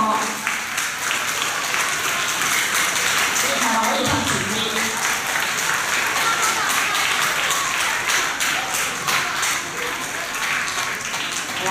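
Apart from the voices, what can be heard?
applause for two prize-winning students at ceremony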